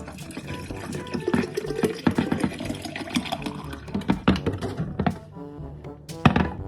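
Milo lemonade splashes and gurgles as it is poured from an opened container into a bowl, with uneven glugs and several hollow thunks of the container close by, and no talking.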